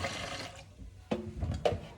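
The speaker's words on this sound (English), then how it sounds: "we're going to just pour that water into the chicken" Water poured from a seasoning pot into a pot of Jamaican curry chicken, brief splashing and sizzling liquid sounds after a quiet pause, close and moderately loud.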